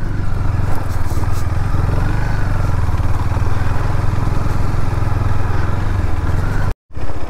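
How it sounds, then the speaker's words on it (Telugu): A scooter and motorcycle ride through muddy water on a rural road, a steady close engine drone running throughout before a brief cut near the end. "ఆల్రెడీ మన ముందు ఒక స్కూటీ అయితే వెళ్తుంది"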